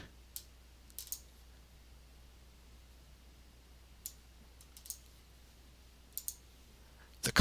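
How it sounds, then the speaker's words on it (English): Sharp, sparse clicks from a computer mouse, some arriving as quick doubles, sit over a faint steady hum in a quiet room while a payroll spreadsheet is worked on, with no one speaking. "Double click to autofill."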